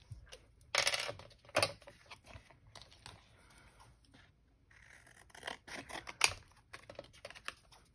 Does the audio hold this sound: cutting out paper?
yes